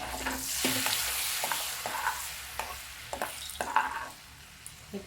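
Butter tadka sizzling for sarson ka saag (mustard greens), a bright steady hiss with scattered spoon clinks and scrapes as it is stirred, close and fairly loud, with no talking.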